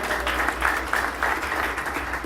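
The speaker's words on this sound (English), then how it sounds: "A round of applause for her too." An event audience gives continuous applause in a hall for guests being welcomed, moderately loud, with rhythmic bursts of claps over a low background hum.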